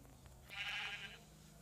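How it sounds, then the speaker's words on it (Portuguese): A sheep in a survival video game lets out a single short, bright bleat in the middle of a quiet stretch, faint and unaccompanied by speech. "Tava tentando matar essa ovelha."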